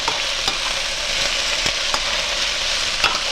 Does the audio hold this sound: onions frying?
yes